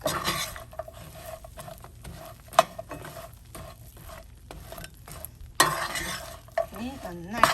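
Spiced plantain chips tossed with spice powders in a pan over low flame, for a traditional Kerala sadya dish, give a steady scraping, rattling stir with soft sizzling and occasional louder clinks of the spoon against the pan.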